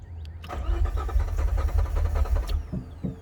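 A 1981 DeLorean engine runs close and loud, a rough mid-pitched rumble that swells as it is revved, then eases back toward a low idle near the end.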